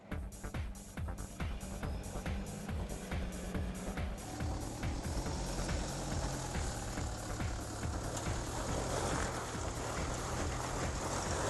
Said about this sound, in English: Okay Ramsey, bring your first vehicle up. This is the unlocked Prado.